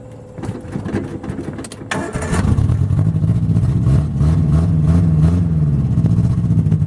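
Triumph Spitfire engine cranks briefly after restoration, catches, and settles into a loud, close, steady idle with slight revving, no talking over it.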